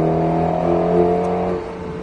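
An Alpine A110S engine roars at full throttle at high revs with a steady, strained harmonic drone, holding loud and then easing slightly toward the end.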